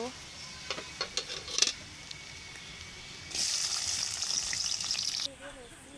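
Chopped onion tipped into hot oil in a cooking pan, just after potatoes were fried there for a chicken curry. A few light clatters come first, then a loud, steady sizzle bursts in and holds for about two seconds before dropping away.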